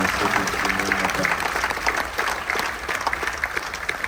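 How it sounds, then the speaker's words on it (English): An audience at a military tribute gives a round of applause for Gold Star recipients, sustained dense clapping from a roomful of people with some crowd murmur underneath. "So give a round of applause for my Gold Star recipients in the room."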